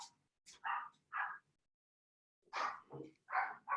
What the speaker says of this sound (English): I'm going to close the door because my dog is barking.